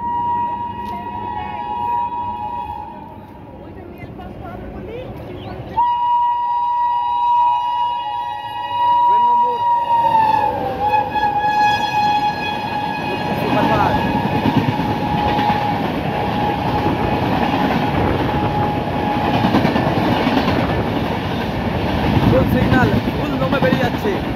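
A long horn blares at a station as a mail train passes a stopped local train, followed by a loud, rising rush of rolling wheels and wagons that continues to the end.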